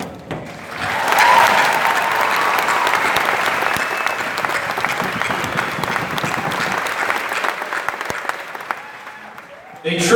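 Crowd applause for an army band at a military graduation ceremony, loud sustained clapping with some cheers that gradually thins out over about nine seconds.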